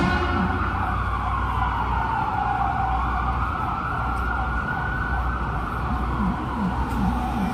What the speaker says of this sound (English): now we see an ambulance going the same way exactly